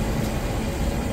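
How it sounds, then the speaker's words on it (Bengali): A Digha–Kolkata special train (03162) pulls into Dum Dum Junction station, heard as a steady, close, low rumble of moving carriages that continues evenly for about a second with no talking. "এই যে আমাদের ট্রেন এখন দমদম জংশনে ঢুকলো।"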